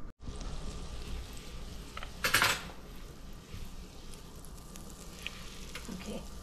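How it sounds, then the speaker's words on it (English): Butter frying in a pan as the base for garlic butter mussels, a soft steady sizzle with a brief louder burst of crackle and a light clink of a utensil against the pan, close by. "We're going to put it in a pan, fry the butter up first, then add the garlic and the pepper."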